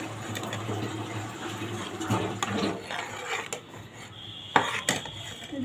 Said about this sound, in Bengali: এই যে দেখুন স্যুপটা একটু করে নাড়তে হবে।